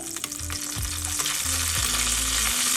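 Mustard seeds, dried red chillies and curry leaves frying in hot oil for rasam, a loud close crackling sizzle with a busy hiss throughout, alone without any talk.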